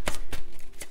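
A few quick papery riffles and flutters of cards shuffled for a card reading, close and crisp, in short bursts with brief gaps.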